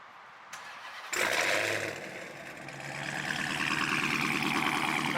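A 1000HP Hellcat fires up after a click, the engine catching with a loud burst of exhaust and then settling into a heavy, rumbling idle close by.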